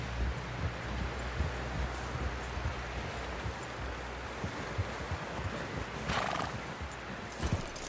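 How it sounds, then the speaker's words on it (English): A horse in the Red Dead Redemption 2 video game whinnies while its hooves clop steadily along, with outdoor rustling and wind, and a sharper neigh bursting out near the end. "Someone help John down off this horse."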